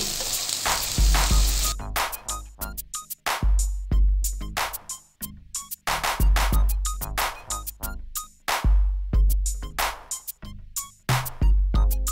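Loud, crackling sizzle of garlic, ginger and onion paste frying in hot oil for beef karahi, broken by repeated scraping and stirring sounds in uneven bursts.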